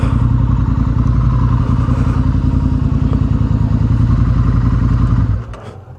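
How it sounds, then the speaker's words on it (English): The exhaust of a 2024 Honda CRF1100 Africa Twin motorcycle burbles with a steady, loud, throbbing rumble close by, then drops away sharply near the end. "I hope they don't think the exhaust is too loud."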